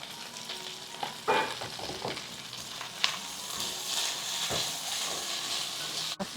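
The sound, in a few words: stir-frying with oyster sauce, salt and broth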